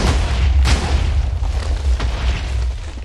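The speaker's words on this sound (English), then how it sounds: "I knew there was going to be an explosion." Deep booming explosion from a trapped chest in the Minecraft modpack ChaosKraft, a loud sustained low rumble with a sharper burst near the start and more thuds rolling through it.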